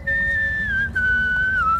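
Several people whistle an anti-war folk melody in a recorded performance, clear sustained tones that glide slowly downward, close and fairly loud with brief breaths between phrases.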